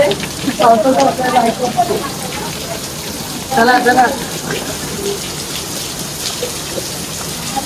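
Steady heavy monsoon rain falls with a dense, hissing patter throughout while people talk briefly over it, at an outdoor birthday celebration.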